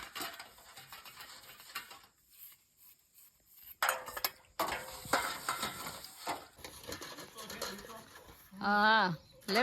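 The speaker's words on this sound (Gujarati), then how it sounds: "કોક વાસણ ઉટકવા બેહે ને એટલે વાસણ કાઢ્યા જ કરે" Blackened cooking pots and vessels being scrubbed by hand, giving intermittent rough rubbing and clinking that comes and goes while people talk nearby.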